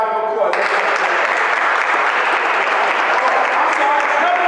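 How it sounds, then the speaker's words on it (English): An audience at a coaches clinic breaks into loud, sustained applause after a short lead-in, the clapping steady and dense to the end. "give these guys a round of applause"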